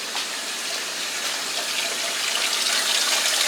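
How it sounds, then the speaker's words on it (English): Water streams steadily into a sink while filter press plates are rinsed, a constant loud hissing gush with no pauses and no voices. "these are what go in the sink to get rinsed off"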